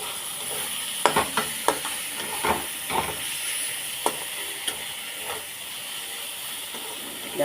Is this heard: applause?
no